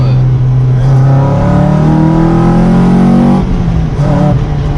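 A Lotus sports car accelerating hard, its engine note rising steadily in pitch, loud and close from inside the cabin, then briefly easing before climbing again.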